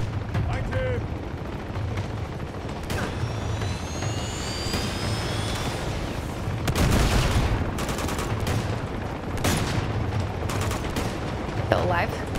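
Gunfire in Uncharted: Among Thieves, repeated bursts of shots cracking out in clusters over a constant engine-like rumble, some sharp and close, with someone talking now and then.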